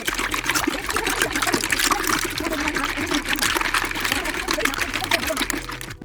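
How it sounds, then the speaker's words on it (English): Keyboard keys scrubbed and rinsed with water and soap solution, a steady close trickle and splashing of running water that continues throughout, with some faint activity underneath. "I will clean all the keys with the water and using a soap solution"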